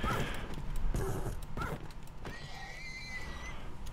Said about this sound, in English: That's a horse, not a cow.